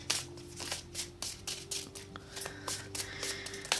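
Tarot cards shuffled and drawn by hand in a quiet room, a rapid series of crisp riffling flutters and soft slaps repeating steadily throughout, close and fairly quiet with no talking.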